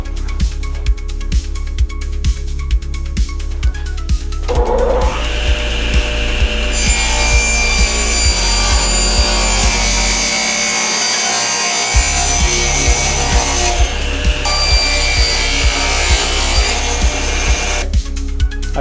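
One edge of a wooden board for an epoxy-inlaid snack board is squared up with a loud, continuous cutting and rubbing noise. A regular pulsing beat of repeated strokes runs steadily throughout.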